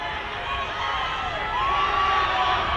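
Crowd of parents and supporters at a schoolboy rugby union match between England Academy and Australian Schools, cheering and shouting steadily from the stands, a broad continuous roar that swells slightly toward the end.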